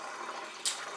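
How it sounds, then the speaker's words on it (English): Tap water running steadily into a dog's water bowl, a soft, continuous hiss and splash with one brief brighter splash near the end. "filling up the dog water bowl thing"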